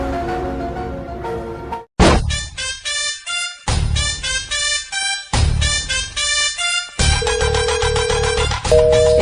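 A telephone ringtone plays loudly after a call is placed, a repeating electronic melody in rhythmic bursts with brief gaps, close and alone.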